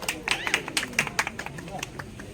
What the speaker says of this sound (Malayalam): നല്ലൊരു കൈയടി കൊടുക്കാൻ നമുക്ക് എല്ലാവരും.